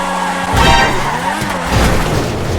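Paragon X kart in GTA5 braking hard and cornering, a loud engine roar with a tire skid sound swelling midway and again near the end, alone without talk.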